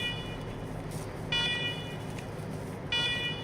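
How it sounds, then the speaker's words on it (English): A shrill electronic alarm sounding in the video game Wasteland 3, two short tonal bursts rising above a low ambient background hum, fairly loud, with no talk. "That's just an alarm."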